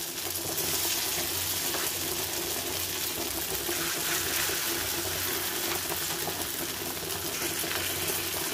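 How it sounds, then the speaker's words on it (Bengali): Pigeon pea dal fritters fry in hot oil with a steady, close, continuous sizzle and bubbling that holds at an even level throughout, with no talking. "এগুলো বড়া করে আমি ভেজে নেব।"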